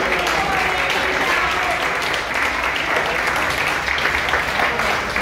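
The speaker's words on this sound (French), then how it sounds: "je vous demande de les applaudir bien fort" Loud, sustained applause from the audience at an annual celebration, honoring volunteers after the president's speech, with a dense wash of clapping that continues evenly throughout.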